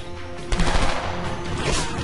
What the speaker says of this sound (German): Was, wer schießt denn da?